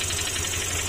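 A Honda Click150 scooter engine idles, cold and with a knocking fault, its steady mechanical hum carrying a faint rapid ticking knock, close up and without talk.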